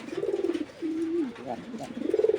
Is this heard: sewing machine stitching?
no